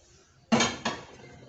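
Half a bar of Dove soap drops into a bowl with two quick, sharp knocks close by, followed by a brief ringing decay.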